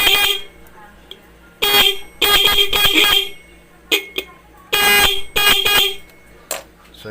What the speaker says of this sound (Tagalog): Pero, syempre, magkaiba yan ng tunog mga boss dahil magkaibang busina yan.